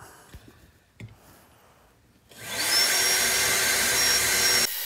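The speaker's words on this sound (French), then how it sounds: "Je perce une série de trous de 6 mm de diamètre." A cordless drill fitted with a step bit for metal bores 6 mm holes into a tin can whose rim has been removed, starting abruptly as a loud, steady, close whine after quiet handling noises.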